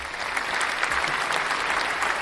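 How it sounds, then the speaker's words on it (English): A crowd claps steadily, dense applause filling the whole stretch at an even, fairly loud level with no voices standing out. "We need to give him a round of applause."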